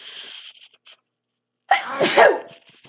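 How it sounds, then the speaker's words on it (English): A single loud, explosive sneeze bursts out after a quiet pause, close to the listener, with some faint sounds before it. "I just sneezed"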